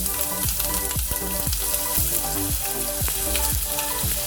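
Whole cumin, fennel and ginger paste fry loudly in hot oil for moong dal kachori filling, giving a dense continuous sizzle with rhythmic stirring scrapes about twice a second.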